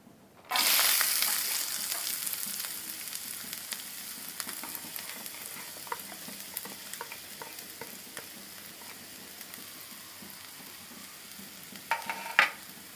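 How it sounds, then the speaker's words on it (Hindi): Onions sizzle and fry steadily in hot oil over a low flame while being stirred, a continuous crackle that starts abruptly and stays close and even, with a brief clink near the end. "प्याज को हम धीमी आंच में 2 मिनट तक भूनेंगे, जब तक कि वो भूरा नहीं हो जाता है।"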